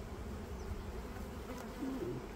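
Honeybees buzz at a well-populated apiary during treatment of the colonies, a soft, steady, continuous drone with a few individual bees passing near.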